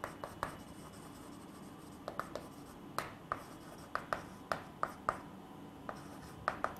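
Chalk or marker tapping and scratching on a board as a physics teacher writes interference equations during a wave optics lesson, with short taps coming in irregular bursts against a quiet room hum.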